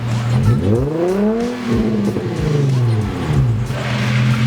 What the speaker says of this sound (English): Rev it for me one time. Hit it.